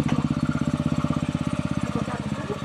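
A tractor engine laboring with a loaded bucket, loud and close, with a steady rapid chugging pulse throughout and no voices.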